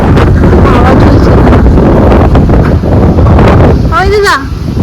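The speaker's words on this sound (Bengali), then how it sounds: "হাওয়া চলছে।" Strong sea wind on Mandarmani beach buffets the microphone with a loud, continuous roar and rumble, and a voice breaks through briefly near the end.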